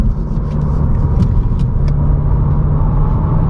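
A 2022 Honda Civic Si on the road with its stock exhaust, heard from inside as a steady low engine drone and road rumble, fairly loud, with no talking.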